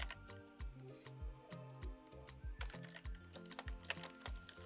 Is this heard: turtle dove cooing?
no